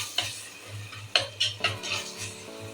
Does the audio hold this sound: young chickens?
no